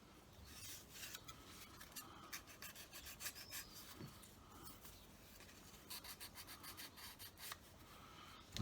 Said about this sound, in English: wherever you find a nib, just give it that bit of a rub going on there